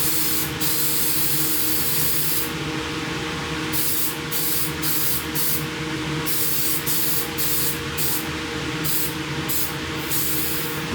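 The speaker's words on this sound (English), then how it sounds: "So I'm going to spray this with Rust Fix." Rust Fix sprayed onto a JH Williams wrench, a close, continuous hissing aerosol spray lasting about eleven seconds, with repeated short, brighter bursts punctuating the steady hiss and no talking.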